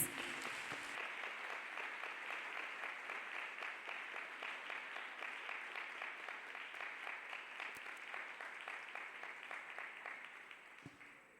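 A church congregation claps for Jesus, with crowd applause settling into a rhythmic, steady unison beat that carries on for several seconds before stopping.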